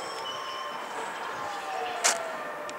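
A train at Warszawa Zachodnia station rumbles past in a steady, moderately loud wash of wheel and track noise, with high metallic squeals and a brief sharp clank near the end; no one speaks.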